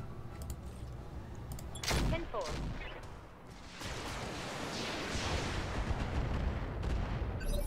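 Weapons fire in a mech combat video game: dense bursts of gunfire and heavy booming blasts roll on continuously, loud and close, with a sharp crack near two seconds and a brief lull before the barrage resumes.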